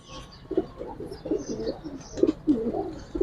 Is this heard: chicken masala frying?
no